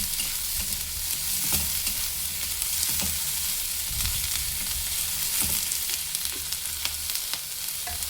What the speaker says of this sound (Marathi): फ्लेम आपल्याला हाय फ्लेमवरच ठेवायचा आहे आणि हे सगळं चांगलं आपल्याला ह्या तेलामध्ये परतून घ्यायचं आहे